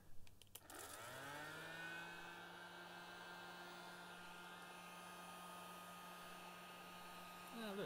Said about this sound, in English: I'm sure they didn't mean on the workbench with a heat gun, like what I'm about to do now